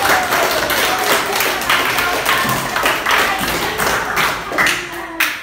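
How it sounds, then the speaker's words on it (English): Classmates applaud a 7th-grade student in a classroom, a continuous wash of clapping that rises and falls slightly, with voices murmuring beneath. "Strong clap for Tariq."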